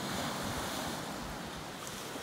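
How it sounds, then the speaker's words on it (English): Ocean waves breaking close to a rocky beach at Agia Galini, Crete, a steady loud wash of surf with wind noise and no voices. "you can almost surf those waves"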